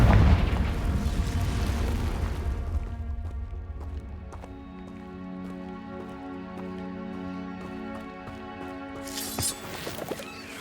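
A Confringo spell explodes in the video game Hogwarts Legacy, a loud deep boom with rumbling debris that fades over several seconds into a soft ringing musical tone, and a fresh burst comes near the end.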